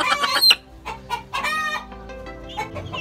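Two young roosters of the Sweater Escolin line, about six months old, crow and cluck loudly and close by in a backyard, with overlapping rough calls and short squawks and no talking.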